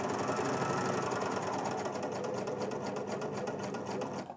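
A Bernina L450 overlocker stitching a 4-thread overlock with the knife up at a 6mm cut width: a steady, dense mechanical whir with a rapid rattling pulse, close and continuous throughout with no talking.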